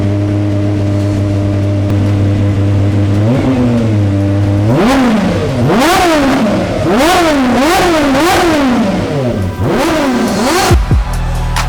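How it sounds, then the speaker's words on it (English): Aston Martin Vulcan engine starting up close and loud, settling into a steady idle before a series of sharp, repeated rev blips that rise and fall, then cutting off abruptly. "We then put it into ignition 2 and start it up, and it should sound something like this."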